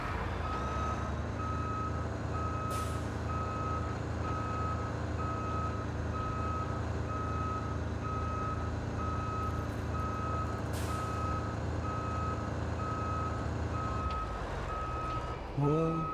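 A heavy truck in the Roadcraft video game backs up, its reversing alarm beeping in an even steady rhythm over a constant diesel engine drone for a long stretch, with someone talking briefly.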